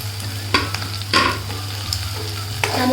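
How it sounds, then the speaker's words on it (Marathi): Close, continuous sizzling of egg bhurji (spiced scrambled eggs) in a pan over a low hum, broken by several sharp scrapes of a spatula stirring the food. "आता भुर्जी परतून घेते"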